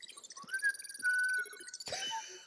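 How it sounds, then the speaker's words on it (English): A person whistles a short, wavering tune in a TV drama scene, sustained tones rising and holding for about a second, followed by a burst of brighter noise and a few clicks, with no talking. "Whistling never works for looking less suspicious."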